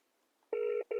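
A phone call rings out: a steady electronic tone sounds, breaks off briefly, then starts again, close and clear with no talking.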